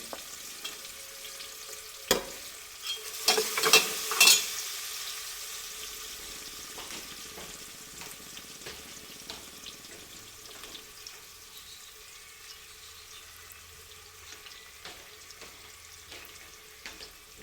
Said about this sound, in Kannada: ನೋಡಿ ಚೆನ್ನಾಗಿ ಫ್ರೈ ಆಗಿದೆ ಈರುಳ್ಳಿ